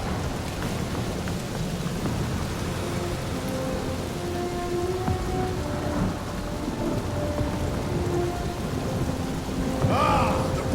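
Steady heavy rain pours through a thunderstorm in Guardians of the Galaxy, with a constant dense hiss and low rolling thunder, plus faint tonal game sounds drifting in behind it.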